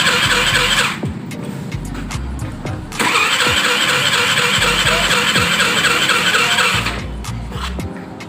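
A Suzuki Burgman scooter with suspected loss of compression is cranked and started repeatedly, its engine catching in loud, squealing bursts that drop back between attempts.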